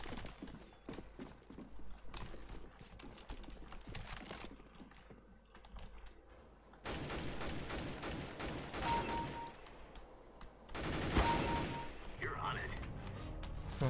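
Bursts of rifle gunfire in Counter-Strike: Global Offensive ring out in loud clusters between stretches of rapid keyboard clicking, with someone talking quietly at times.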